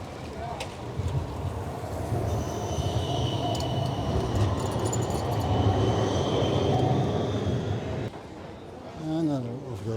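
A train in Amsterdam rumbles steadily nearby with a high whine and metallic squeal over a low drone, then eases off near the end.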